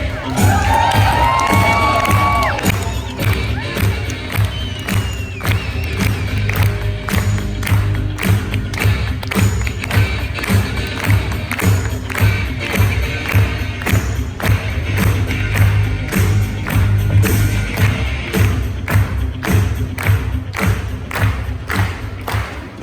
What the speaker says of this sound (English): let's get loud for Royal Crown Marco Passanante!